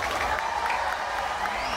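Audience clapping at a live singing show, a steady, moderately loud wash of applause with a crowd murmur running through it, heard at some distance.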